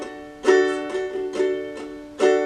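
Ukulele chords strummed in a brisk rhythmic pattern, bright strokes rising and fading, played alone without any talking.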